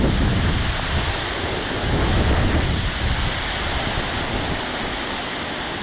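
Waterfall at Gayle plunging down an angled rock wall, a steady loud broadband rush of falling water mixed with gusting wind buffeting the microphone, constant throughout with no voices.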